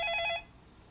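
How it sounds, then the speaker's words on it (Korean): A telephone bell rings during a live Korean stock-advice broadcast, giving a short burst of rapid trilling rings at moderate loudness that stops abruptly, followed by quiet. "그럼 그 사이에 걸려온 전화부터 받겠습니다."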